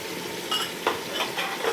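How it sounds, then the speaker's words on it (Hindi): Garlic and ginger paste sizzles in a hot pan for degi chicken pulao, a soft frying hiss broken by a few quick scraping stirs, close and without speech. "अब हम इसमें करेंगे लहसुन और अदरक का पेस्ट"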